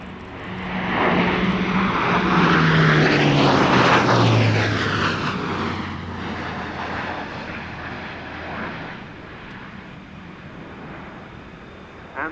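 An aircraft makes a high-speed pass at an air show, its engine roar swelling loudly as it approaches, sweeping down in pitch as it passes overhead, then fading into the distance.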